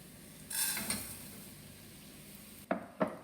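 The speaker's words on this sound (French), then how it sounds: "Et on mélange." Rice and onions are stirred in olive oil in a cooking pot for lemon risotto, giving a soft scraping swirl over a faint sizzle, then two sharp knocks of a utensil against the pot near the end.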